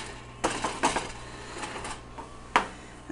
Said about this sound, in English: So I'm going to flip this pan around and